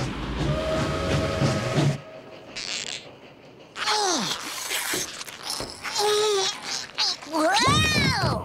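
In a Woody Woodpecker cartoon, a train clatters along with rumbling rail noise, then several rising and falling whistle blasts sound, loud and close, with faint voices in the background.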